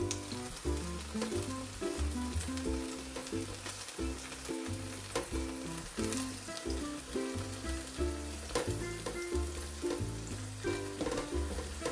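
Steady sizzling and crackling of eggplant frying in hot oil, continuous and close, with a musical backing playing throughout.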